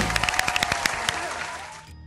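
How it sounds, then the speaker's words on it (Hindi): Brief burst of studio audience clapping on a Pakistani TV game show, a handful of distinct sharp claps at first, merging into a short wash of applause that cuts off abruptly. "Round of applause, तालियां, 16 points."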